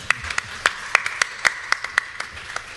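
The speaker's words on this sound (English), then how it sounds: "Please give him a hand of applause." Audience giving a few scattered, distinct handclaps for a speaker, sparse and moderately near with irregular spacing and no talk.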